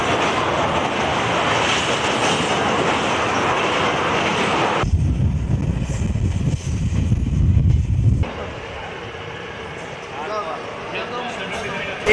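A local passenger train runs along the rails in Bihar with a steady loud rumble and rattle heard from onboard, growing deeper and heavier for a few seconds before easing back.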